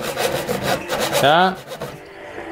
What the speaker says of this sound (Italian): E sega.